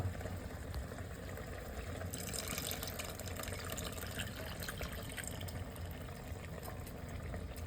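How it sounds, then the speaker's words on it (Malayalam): Tamarind water is poured into a homemade fish curry, a continuous liquid pour and splash that strengthens partway through over a steady background hiss, close by with no talking. "പുളിവെള്ളം ഒഴിക്കാൻ പോകട്ടോ."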